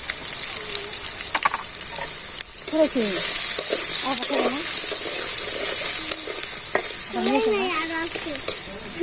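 Potatoes sizzle in hot oil, a steady bright crackling hiss up close, with a few faint murmurs in places.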